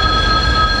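A Garib Rath Express train pulls away with a steady low rumble and a faint high whine from the wheels, heard continuously over a brief moment.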